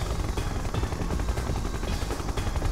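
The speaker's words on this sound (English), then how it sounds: "Got the big siege choppers!" Siege chopper helicopters in the real-time strategy game Red Alert 2: Yuri's Revenge, heard as a dense, continuous rotor and gunfire-like din with rapid pulsing throughout, loud and without talk.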